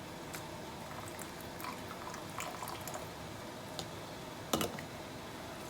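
Brine is poured into a jar packed with pickled jalapeño rings, giving a faint, steady liquid trickle with a few small clinks and one brighter splash near the end.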